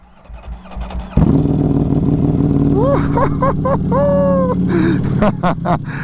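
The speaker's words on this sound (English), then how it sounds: "let's go ahead and get this cold start going" A Ducati Panigale V4 SP2 motorcycle with an aftermarket exhaust cold-starts loudly, catching into a rough, high idle with several sharp throttle blips and whistling tones near the end.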